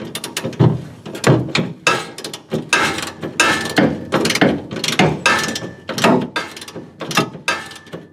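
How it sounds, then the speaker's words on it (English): A ratchet tightens the rear leaf spring shackle on a 2000 Ford Ranger, making loud, rhythmic bursts of clicking at a steady pace of about one or two per second, close up and with no talk. "we're tightening the shackle, and then we should be done"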